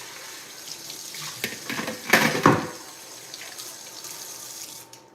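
Water from a kitchen tap runs steadily while a bowl is rinsed beneath it, with a brief burst of splashing and clattering midway and softer flow on either side.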